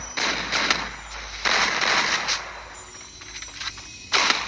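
Bursts of rapid gunfire crackle in quick volleys during a ranked solo match in a video game, separated by short lulls, with a steady low hum beneath; the shots sound synthetic and game-like.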